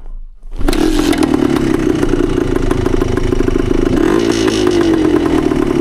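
A 1972 Yamaha DT2 enduro motorcycle kicks into life after a brief quiet moment, then settles into a loud, close, steady two-stroke idle with rattly clatter and a slight dip in pitch near the end.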